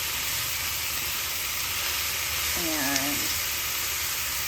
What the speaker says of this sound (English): I'm just going to show you the beginning part of the sauteing because it says to saute quite slowly